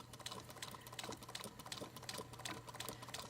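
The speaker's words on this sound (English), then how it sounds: "it's stitching, just following along there quite nicely." A sewing machine stitches fabric in a steady, fast run of needle clatter with brief slowdowns, close and alone with no talking.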